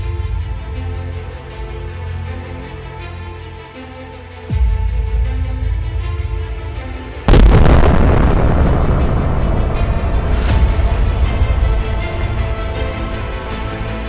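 Nuclear missile strikes in an animated war simulation, a low rumbling drone that jumps to a deep boom partway through, then a second heavier blast that swells into a loud, sustained roaring rumble.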